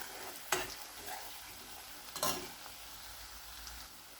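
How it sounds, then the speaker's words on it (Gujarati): Garlic and onion sautéing in a pan for an eggplant bharta, giving a soft, steady sizzle broken by two brief scraping stirs, close by with no voices. "અત્યારે કશ્મીરી લાલ મરચું એડ કરીએ તો આપણું એ મરચું બળી જશે, એટલે આ પહેલાં બરાબર ડુંગળી લસણને આ બધું આપણે સાતળવા દઈશું"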